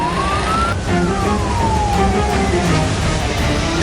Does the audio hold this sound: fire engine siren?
yes